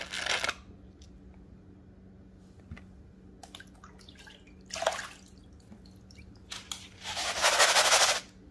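Paydirt from Rose Creek, Nevada sucked into a Higher Grader in short bursts: a few loud rushing, rattling slurps separated by quiet pauses with faint drips and clinks, the last burst longest.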